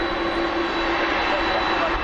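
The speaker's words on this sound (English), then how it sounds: "It's great to see these taxis right past as well on the old mounds." An airliner taxis past at Manchester Airport with a steady, loud engine roar and whine, and people talk under it.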